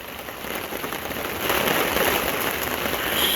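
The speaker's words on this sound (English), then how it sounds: "I can't even walk on this side because it's raining like hell over here." Heavy rain pouring down during a thunderstorm in Reno, Nevada, a dense, hissing downpour drumming on surfaces that grows louder partway through and stays intense, with no talking.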